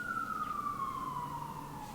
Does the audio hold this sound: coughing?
no